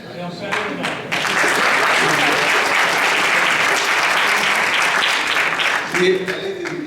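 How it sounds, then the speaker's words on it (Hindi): A burst of loud crowd applause at a mushaira poetry gathering swells up and sustains for several seconds before tapering off, with a few scattered claps at the edges. "ये लश्त और हौसला पस्त करने वाली ताली है।"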